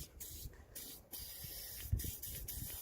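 WD-40 sprayed into a freshly tapped bolt hole on a VW T5 engine during a tandem pump replacement, giving short close hissing bursts that start and stop several times against a quiet workshop background.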